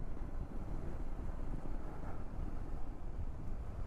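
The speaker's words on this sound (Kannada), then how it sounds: "ಹಿಂಗೆ ಗಾಳಿ ನೋಡ್ರಿ. ಈಗ ಹೆಲ್ಮೆಟ್ ಅದ ಹಿಂಗಾಗತ್ತದ ಗಾಳಿ." Wind buffets a motorcycle helmet during a ride through Ladakh's Zanskar Valley, a steady low rumbling roar with gusty fluttering pulses, close and continuous throughout.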